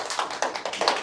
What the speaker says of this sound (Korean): 자, 그러면 박수 부탁드립니다.